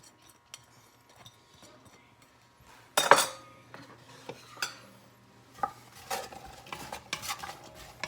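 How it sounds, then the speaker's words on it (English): Onions tipped into a pot of warming olive oil, a sudden clatter and hiss at about three seconds followed by scattered stirring clinks of a utensil against the pot, close and moderately loud with no talk. "I'm going to put in a little olive oil. That's still warming a little. And in goes the onions."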